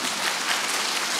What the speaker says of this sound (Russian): Ребят, пока не хлопаем